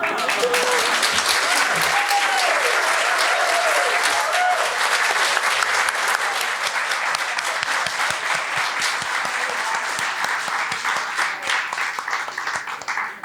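A live storytelling audience claps loudly and steadily for a storyteller, dense applause sustained throughout with a few cheers near the start, gradually thinning toward the end.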